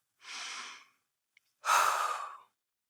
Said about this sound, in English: Take a deep inhale, a deep exhale, and continue to train your breathing and train your body to calm down.